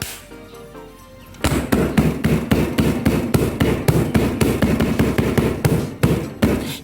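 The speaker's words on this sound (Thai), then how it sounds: "นี่เลยผมทุบกระบอกนี่เลยนะครับ" A red dot sight's tube is struck with a steady run of repeated hammer blows, loud sharp knocks in an even rhythm after a brief quieter lead-in.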